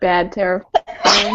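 A single sharp sneeze bursts out nearby in a quiet indoor room, sandwiched between stretches of a person talking.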